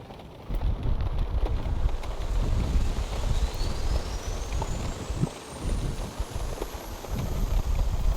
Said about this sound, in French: Donc, on lance moteur 1.